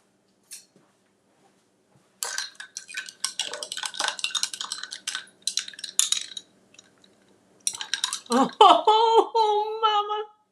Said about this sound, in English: let me just stir and taste